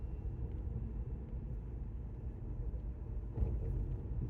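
A Chevy Bolt electric car drives up a narrow two-lane mountain road toward Ski Apache, giving a low, steady cabin rumble of road and wind noise with a brief louder bump near the end.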